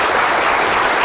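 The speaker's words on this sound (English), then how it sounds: "a round of applause to welcome Pip and also congratulate him on his CNZM" An audience claps to welcome architect Pip Cheshire at the Fast Forward 2024 event, a dense, loud, continuous burst of applause from a large crowd with no voices over it.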